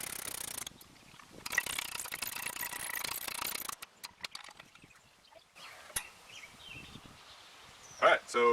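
A ratchet works on a Honda Odyssey's rear brake caliper bracket in a garage, with rapid metallic clicking bursts, some long and some short, broken by pauses, clanks and faint handling noises.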